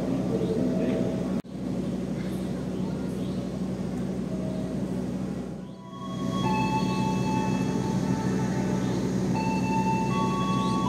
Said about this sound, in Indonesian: kereta api Tegal Bahari tiba di stasiun Jati Barang